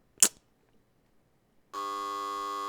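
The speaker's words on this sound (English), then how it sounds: "Well, my buzzer suddenly sounds." A buzzer sounds in the Last Window: The Secret of Cape West video game, a sustained electronic tone held steadily after a short sharp click and a stretch of near silence.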